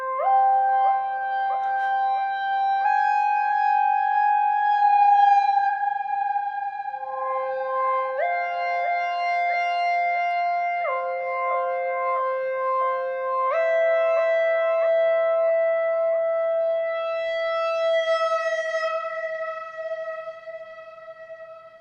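A Moog synthesizer run through an Eventide space pedal and a stereo tube delay plays sustained, layered tones that shift pitch in stepped, siren-like phrases, steady and loud for over twenty seconds with no voices.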